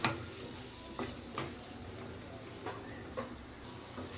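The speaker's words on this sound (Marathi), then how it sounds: "गरम मसाला आता त्याला पूर्ण फ्राय करून घेऊ" Garam masala and an onion-tomato mixture fry in a pan for a Marathi brinjal and potato dish, a steady soft sizzle broken by several spoon scrapes and taps against the pan, close and fairly quiet, with no talking.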